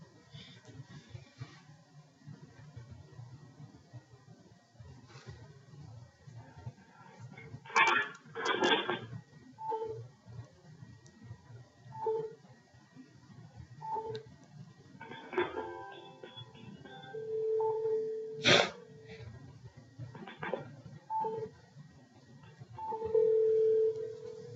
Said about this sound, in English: I hear a ringing phone